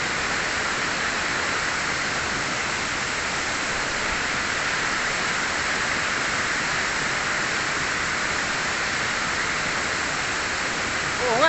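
Timmanguyob Falls pours with a steady, unbroken roar of falling water, close and loud, holding an even rushing hiss from start to finish.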